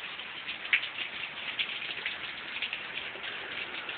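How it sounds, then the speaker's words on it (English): Steady rain falling outdoors near a backyard grill setup, a soft continuous hiss with occasional louder drips and spatters, faint and even throughout. "Hope it quits raining"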